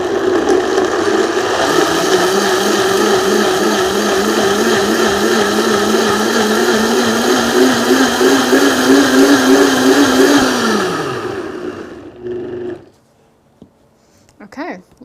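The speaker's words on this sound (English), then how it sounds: "pumpkin seeds and the sunflower seeds whole here because we have a high-speed blender" A high-speed blender blends a smoothie with whole pumpkin and sunflower seeds, a loud, steady motor whir for about ten seconds before it winds down and stops.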